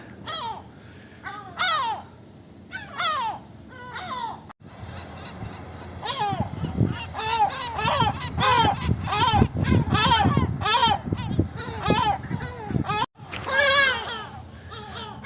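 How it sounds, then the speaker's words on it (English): Gull-like calls ring out in bursts in Gibraltar, harsh and wavering, first alone and then mixed with loud overlapping talk and cries nearby. "Getting bombed by seagulls here."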